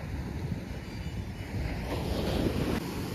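Sea waves wash up on a beach at Porbandar on India's Gujarat coast, a steady rushing surf mixed with gusts of wind buffeting the microphone, moderately loud and without talk.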